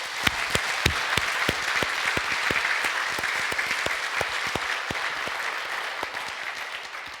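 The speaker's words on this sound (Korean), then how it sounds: "우리 온 교회가 떠나가도록 우리 힘차게 감동 있는 박수 한번 하겠습니다." A church congregation at Sunday worship bursts into loud, sustained applause, with dense rapid clapping from many hands filling the room evenly, occasional sharper individual claps standing out, and no voices over it.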